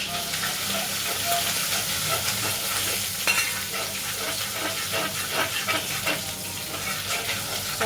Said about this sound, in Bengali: তো এই আদাটাকে এবারে আমি ভাজবো।